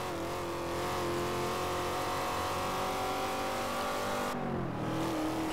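A car engine revving hard inside a tunnel in the racing video game Forza Horizon 2, a loud sustained roar with a rising then dipping pitch that echoes off the walls and shifts as the gear changes near the end.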